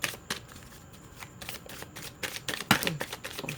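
A deck of tarot cards being shuffled up close, a run of quick riffling and soft slapping bursts, with no one talking.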